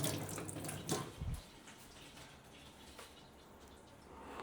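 Tap water runs quietly as hands are rinsed under a faucet, a faint continuous splash with a brief louder gush near the start.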